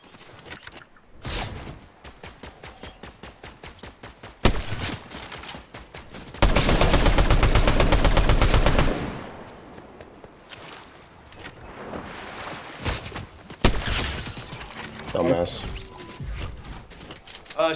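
Bursts of automatic gunfire in an online shooting video game, rapid rattling volleys including one long sustained spray, with players talking over the action.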